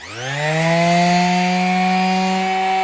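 A new bench-mounted orbital sander spins up from rest into a steady, loud motor whine with a buzzing hum underneath, running alone without any voices.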